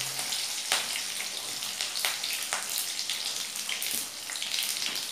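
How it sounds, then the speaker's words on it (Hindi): Chillies and sesame seeds crackle and sizzle in hot oil for a tempering, a dense steady hiss with scattered sharp pops close by. "तेल गर्म हो गया है अब हम इसमें मिर्ची डालेंगे मिर्ची जब ऐसा फूट जाए तो हम इसमें तिल डालेंगे"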